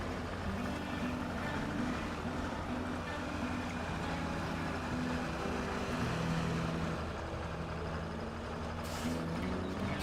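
A heavy video game truck engine drones steadily at close range, a low rumbling hum with faint mechanical whine, continuous and unchanging throughout.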